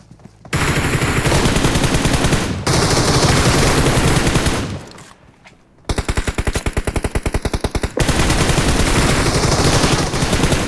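Loud bursts of automatic gunfire from PUBG Mobile, firing in long rapid strings with a short pause midway and a distinct rhythmic volley after it, close and dominant with no talking.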